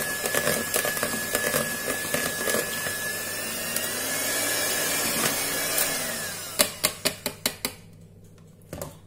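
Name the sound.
beating banana into cake batter with a mixer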